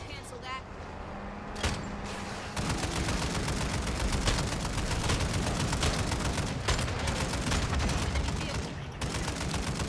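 Rapid bursts of automatic gunfire in the video game Warzone crackle almost nonstop, loud and dense, with players talking over the shooting.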